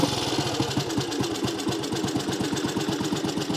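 A Matchless G11 classic motorcycle engine runs steadily at idle, its fast, even thumping pulses continuing without a break at moderate level, with no voices.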